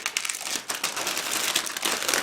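A plastic bag holding small sprues from a Miniart 1/35 T-44 model kit crinkles and rustles steadily at close range, with no talk.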